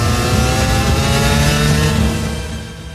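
A dirt bike engine revving hard, loud and close, one sustained buzzing roar that dips slightly toward the end.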